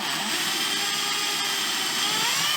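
A power drill whines steadily at high speed as it bores an 11mm hole through plasterboard, a close, constant buzzing tone with no talking.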